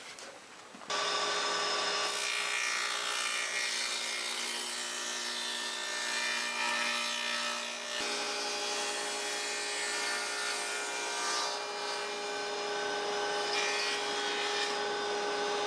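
A saw blade cuts steadily through a pine board, its broadband rasping whine running continuously and loud for about fifteen seconds with little change in rhythm.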